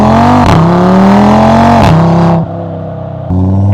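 An Audi RS3 engine with an aftermarket exhaust revs loudly at close range, the pitch rising and falling through several blips before it drops back and climbs again.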